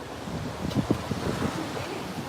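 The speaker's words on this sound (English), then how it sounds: "So it's raining and very windy" Strong wind roars across an open microphone on a street with a steady wash of rain and gusting bursts.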